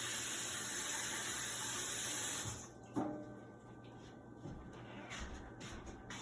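Tap water runs steadily into a kitchen sink while apples are rinsed, a fairly loud hiss that cuts off abruptly partway through, followed by faint handling clunks and quiet room sound.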